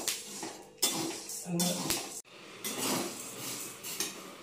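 Urad dal roasting in a pan in a home kitchen, with scraping and rattling as the lentils are stirred against the metal, irregular clinks between quieter stretches, while someone talks nearby.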